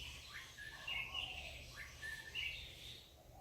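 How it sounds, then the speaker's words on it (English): Faint birds chirp in short repeated bursts over a low steady background hum, distant and soft. "The birds are playing."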